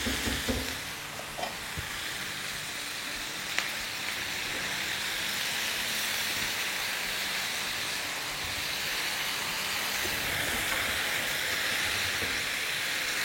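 Masala and chicken roast in oil in a pot, giving a steady, loud sizzling hiss with faint stirring scrapes throughout and no talking.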